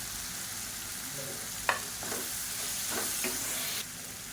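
Onion, tomato and chopped coriander sauté together in a pan, a continuous close sizzle broken by a few sharp spoon scrapes and stirring knocks, then a drop in the hiss near the end.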